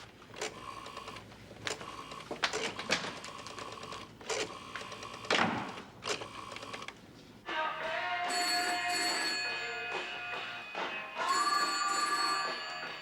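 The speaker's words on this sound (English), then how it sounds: "answer that phone!" A telephone rings in a quiet room, with several bursts of bell-like trilling at first, then a longer, louder continuous ringing that carries on until the end.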